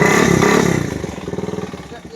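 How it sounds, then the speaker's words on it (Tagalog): A Kawasaki NS150 motorcycle fitted with an open pipe exhaust, its engine reported knocking after a missed oil change, revs loudly up close, then drops into a rapid putting idle. "Ganahan ka piga-piga sa motor mo."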